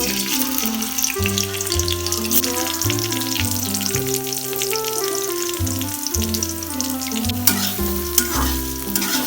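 Garlic fries in a pan for a pumpkin dish in a miniature play-cooking set, giving a continuous sizzle with light stirring under prominent background music.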